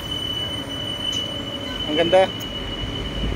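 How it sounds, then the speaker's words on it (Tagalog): An LRT light rail train's wheels squeal briefly in a sharp, wavering screech amid a steady rail hum and crowd ambience, with a short spoken remark nearby. "Ito guys, yung LRT nila"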